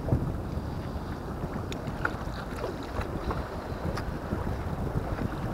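Steady wind and choppy waves at sea aboard a small fishing boat out after cuttlefish, a constant broad rushing roar with microphone buffeting and no talk.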